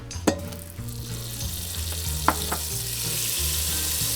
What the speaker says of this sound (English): In goes the butter.